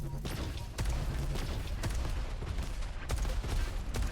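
Rapid explosive blasts of continuous rocket fire from the arena shooter Diabotical crack through a dense mix of game noise, several loud hits spread across, under a commentator's talking.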